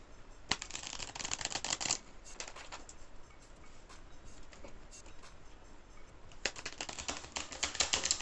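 Playing cards for the Archduke memory game are reshuffled in quick riffling bursts, a dense flurry at the start and another near the end, with soft card handling in between, close and quiet, no talk.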